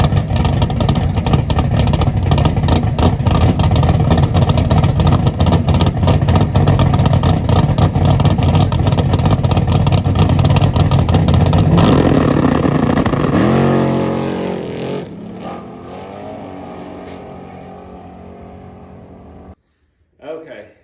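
Hemi-powered coupe on a drag strip roars at full throttle for about twelve seconds, then the engine note drops as it coasts down and fades, with a brief sound at the end.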